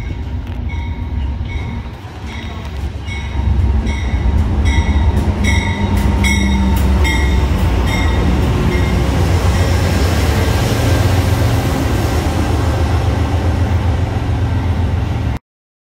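Train rolling past up close at a Virginia railfanning spot, a loud steady rumble of wheels and cars with rhythmic clicking and faint squeal, continuing without pause until an abrupt cutoff.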